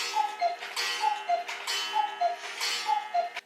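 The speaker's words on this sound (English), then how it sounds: "my grandma's cuckoo clock that we inherited after she passed" A cuckoo clock ticks steadily and close by, its paired tick-tock beats repeating evenly about once a second with no voices.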